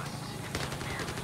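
Rapid automatic gunfire in the VR shooter Zero Caliber, a short dense burst of shots under a loud noisy background, lasting about a second.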